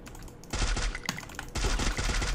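Gunfire in the video game Free Fire: rapid automatic bursts crackle in two dense volleys split by a brief gap, loud and close, with no talk over them.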